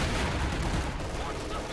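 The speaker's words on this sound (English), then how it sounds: "MG42 firing on some infantry right here" An MG42 machine gun fires on infantry in a World War II strategy video game, a dense continuous roar of gunfire with overlapping battle noise throughout the short stretch.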